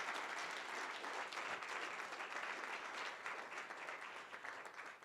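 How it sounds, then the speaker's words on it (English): A conference audience gives a panel a steady round of applause, dense clapping that holds for several seconds and tapers slightly at the end, with no talking. "let's give our panel a round of applause"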